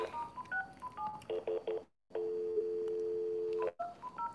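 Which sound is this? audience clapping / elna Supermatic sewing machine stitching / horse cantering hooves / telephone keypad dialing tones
telephone keypad dialing tones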